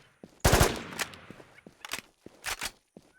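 Gunfire from a gun in the video game Infestation: a sharp close burst of shots followed by several separate cracks spaced irregularly over a few seconds, with quieter taps between.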